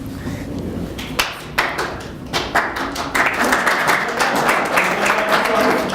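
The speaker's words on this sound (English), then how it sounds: "Why are you clapping?" Audience clapping at a science conference presentation, starting as scattered claps and swelling into fuller applause across the room, with a faint voice beneath.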